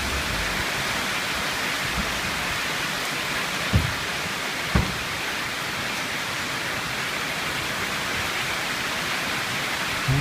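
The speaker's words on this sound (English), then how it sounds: "the heavy rain is a fact of life here" Heavy tropical rain in the hills of Cebu, Philippines, a steady dense broadband roar that holds throughout, broken only by a couple of faint low knocks.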